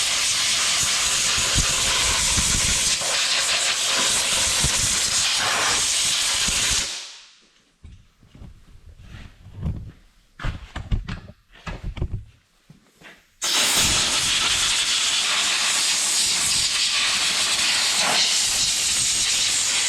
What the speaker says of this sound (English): I'll blow it off with air a little bit here to get it a little bit cleaner